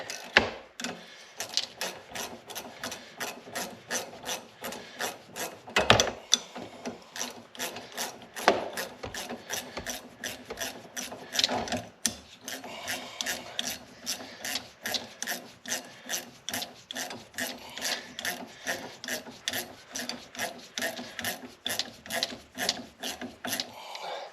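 A ratchet wrench tightens a shock bolt on an EZ-GO RXV golf cart lift kit in a garage, giving a long run of quick, regular clicking strokes with brief pauses, close by and without speech.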